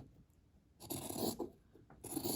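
Scissors nipping the corner of a fabric face mask, heard as a few short, quiet rasping snips and rubs close by in a quiet room.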